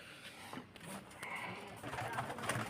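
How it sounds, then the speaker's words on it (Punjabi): Domestic pigeons gathered on a rooftop coo softly in low, throaty murmurs, faint and close, mixed with rustling and low background noise. "ਕਬੂਤਰ ਵੇਖ ਲਓ ਸਾਰੇ ਆ ਬੈਠੇ"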